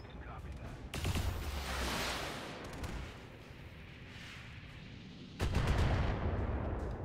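Autocannon and LRM missile fire in the BattleTech video game, two sharp loud bursts of blasts and rumbling impacts with a quieter stretch of hiss and rumble between them, and speech faintly present.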